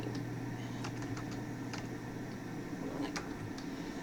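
Computer keyboard keys are tapped in short irregular bursts, faint clicks over a low steady hum in a quiet room.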